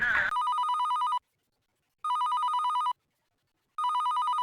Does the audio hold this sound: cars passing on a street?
no